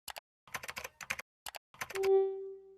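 Keys on a computer keyboard tapped in short bursts of clicks to enter a command, close and quiet, followed by a brief sustained tone.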